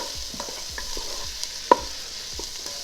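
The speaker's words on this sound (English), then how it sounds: "Get that stirred around a little bit." Meat and vegetables sauteing in a Ninja Foodi being stirred, a soft steady sizzle with faint scraping stir strokes and one small clink, close and fairly quiet.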